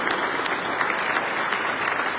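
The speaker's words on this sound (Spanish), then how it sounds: "Un aplauso para él." Applause fills a church during a boy's first communion mass: steady, dense clapping from the congregation, fairly near and continuous, with no speech over it.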